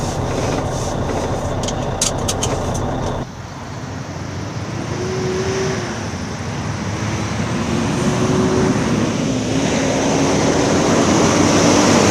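An RV rolls along the road, heard from inside as a loud, continuous rumble of engine and tire noise, with a slowly rising motor tone as it picks up speed.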